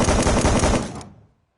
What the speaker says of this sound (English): this gun has over 100 bullets, and when you do this and hold down the trigger for too long, it does this